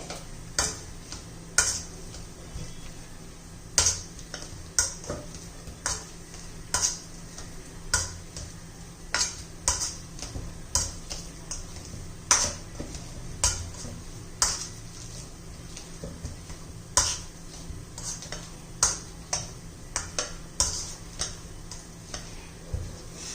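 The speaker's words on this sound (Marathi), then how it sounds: "आता मी जरा मॅश करून घेते मॅशरनी" A potato masher pressing boiled raw banana in a steel pan, giving a steady run of sharp, close taps and squishes repeated every second or so over a quiet kitchen background.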